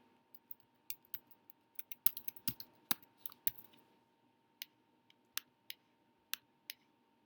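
Keys tapped on a computer keyboard while entering a title, sparse quiet clicks in small irregular bursts with pauses, close and faint in an otherwise silent room.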